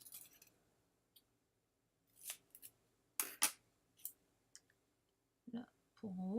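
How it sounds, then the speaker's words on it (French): Scissors snip paper while making a scrapbook-style card: a few short, crisp cuts and clicks spaced through quiet, close by, with a brief voice at the very end. "Ciseaux."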